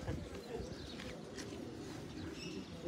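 Soft pigeon coos murmur through a busy outdoor background, with faint chirps and shuffling noise around them.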